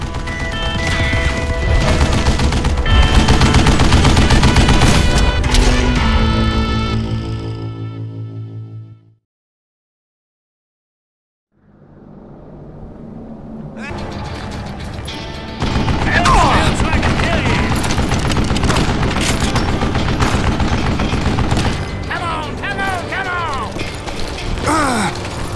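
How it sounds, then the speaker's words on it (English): A Gatling gun in the Wild West game Call of Juarez Gunslinger fires a loud, dense, rattling barrage that cuts out into a few seconds of silence, then heavy gunfire and clattering action resume. "Kid Curry opened up on me with a goddamn Gatling gun"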